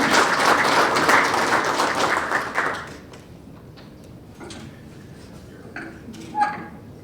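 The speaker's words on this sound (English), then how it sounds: "Let's give them a round of applause" Loud applause from the audience at a 2025 Piqua athletics Hall of Fame induction ceremony for the new inductees, dense and sustained for about three seconds, then quickly dying away into a quiet room with a few scattered taps.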